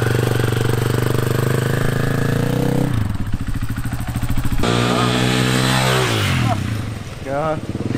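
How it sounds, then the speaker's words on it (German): A KTM motorcycle engine starts and settles into a loud, steady idle with an even throbbing note that shifts partway through, and a voice briefly joins near the end. "wir starten jetzt einfach mal, machen mal die KTM an"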